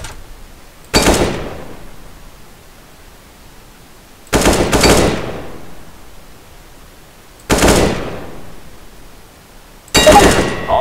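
Four separate gunshots in Counter-Strike: Global Offensive, spaced a few seconds apart. Each is a sharp, loud crack with a quickly fading tail over a low, steady game-ambience hiss.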